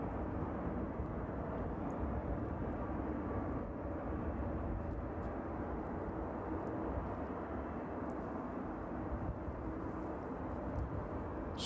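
A cargo jet takes off from runway 27 at East Midlands Airport on a chilly evening, its engines a steady, broad roar that holds without a break at a moderate distance.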